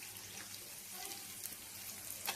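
Onion and green chilli fry together in a pan for poha, a soft, low sizzle with faint crackles, quiet and close, no one talking.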